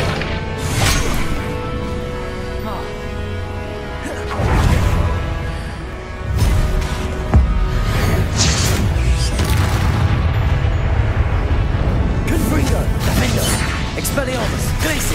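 Fire spells in the Hogwarts Legacy video game blast with repeated booming, crashing impacts and whooshes amid dense battle noise, while a voice shouts over the explosions.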